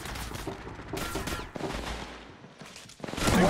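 Rapid bursts of gunfire from the Apex Legends mobile game, played on a Samsung A70, come in repeated volleys with brief gaps and grow louder and denser toward the end.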